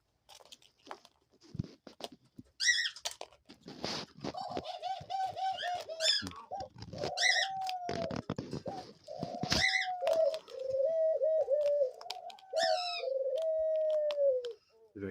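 A pet dove coos repeatedly up close, with drawn-out low wavering calls running through most of the span, mixed with scattered pecking and crunching clicks and a few higher chirps.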